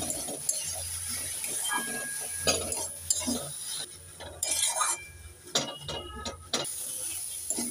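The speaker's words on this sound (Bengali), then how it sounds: "এবার নেড়ে চেড়ে ভালো করে ভেজে নেব।" Vegetable chop filling frying in a pan is stirred with a metal spatula, giving close, irregular scraping and clinking strokes over a soft sizzle.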